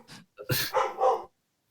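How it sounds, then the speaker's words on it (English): A dog gives a few quick barks close by, three or four sharp yelps in a short burst, with no talk over them. "the dog would always bark right at the time when I'm trying to make a point"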